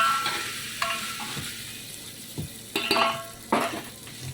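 Onions frying with ginger-garlic paste in a pan for chicken curry, stirred with a utensil: a soft, steady sizzle broken by several sharp scrapes and clinks against the pan, close and with no voices.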